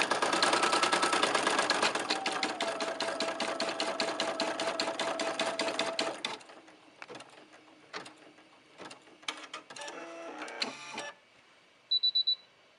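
A Brother PE 770 embroidery machine stitches a design with a fast, loud, steady mechanical rattle for about six seconds, then stops, followed by scattered clicks, a brief whir and a short beeping signal near the end.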